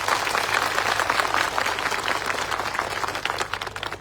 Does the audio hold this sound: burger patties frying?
no